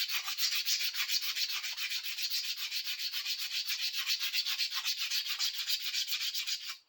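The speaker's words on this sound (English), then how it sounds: "so we'll do a little bit of sandpaper on it for the sake of argument." Sandpaper rubs steadily over a rusty, hardened steel tool in quick back-and-forth strokes, a close, even scratching rhythm that runs for several seconds with no talking.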